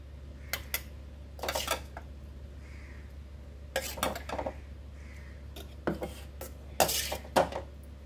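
Cooked bottle gourd peel and seeds are scooped into a mixer jar, with a spoon clinking and scraping against metal in scattered bursts, close and fairly quiet.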